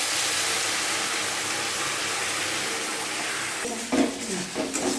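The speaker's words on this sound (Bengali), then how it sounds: "আর এটার মধ্যে এখন আমি ঝুলটা দিয়ে দেবো, গরম জলটা দিয়ে দিলাম" Hot water hits a pan of sizzling vegetable curry with ridge gourd, giving a steady loud hiss of frying and steam that gives way to bubbling and a few clinks near the end.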